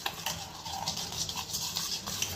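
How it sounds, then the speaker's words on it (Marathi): Raw mango pulp and sugar stirred together in a pot, a steady close scraping and swishing with soft knocks against the vessel, with no talking. "कैरीचा गर आणि साखर छान मिक्स करून घ्यायची"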